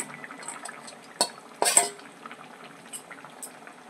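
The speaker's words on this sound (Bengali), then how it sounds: "পকোড়াগুলো দিয়ে একটু ফুটিয়ে নেব, বেশিক্ষণ ফোটাবো না" Pakoras simmering in a pot of curry with potatoes, a faint bubbling hiss in the background broken by a sharp metal clink and a brief louder burst of scraping and stirring near the middle.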